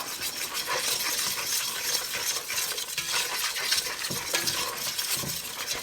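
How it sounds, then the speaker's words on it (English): Spices stirred into a macaroni and cheese sauce in a pan, with continuous close scraping and clinking of a utensil against the pot and a light sizzle underneath, no voices. "Now that I've stirred in the spices"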